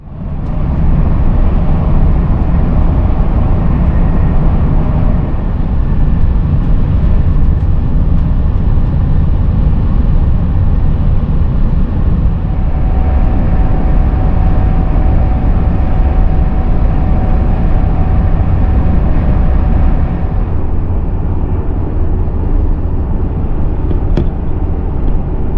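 A high-speed train travelling toward Strasbourg fills the space with a loud, continuous rumble and rushing roar that holds steady throughout, with no talking.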